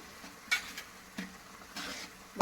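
Short bursts of stirring in a pan as spices are mixed into a Gobi Manchurian mixture, with a few quick scraping strokes and a faint background sizzle, no talking.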